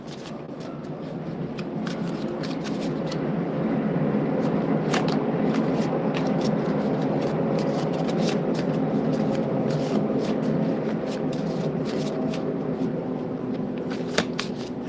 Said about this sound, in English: And just shuffle your cards.